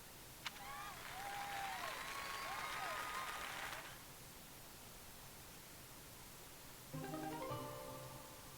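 Crowd applause from the video game Fire Emblem: Three Houses, a steady wash of clapping under bright melodic game chimes, fading out and followed later by another short musical chime.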